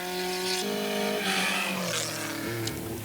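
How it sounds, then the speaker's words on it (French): Alpine A110 rally car driven hard through a winding road's corners, its engine note rising and falling through gear changes, loud and close with a continuous rasping drone. "Toujours à l'aise, Besson sur son Alpine A110 attaque chaque virage."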